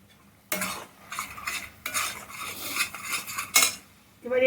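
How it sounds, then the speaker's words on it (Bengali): Mushroom masala spice paste with tamarind and tomato is being stirred in a pan. There is a soft sizzle and repeated scraping, clinking strokes of a metal spoon against the pan, with a brief pour of liquid near the end. "এটাকে আরও এক মিনিট নাড়াবো"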